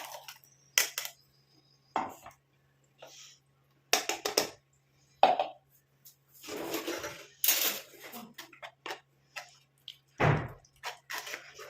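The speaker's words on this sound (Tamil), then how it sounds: "இப்போ நாம் இந்த மாதிரி ஒரு பாத்திரத்தில் வடிகட்டி எடுத்துக்கலாம்" Ground hibiscus leaf hair dye paste strained into a vessel gives close, intermittent wet squishes and drips, broken up by occasional clinks of a utensil against the container, with quiet pauses between them.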